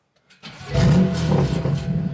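A BMW F-series engine, tuned with BootMod3 and set for no cold start, cranks briefly and catches, then settles into a loud, steady rumble close by.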